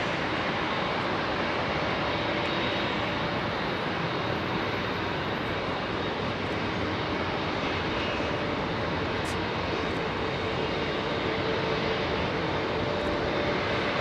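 Jumbo jet engines at Heathrow Airport, a steady distant rumble and hiss holding level throughout, moderately faint, with no talk.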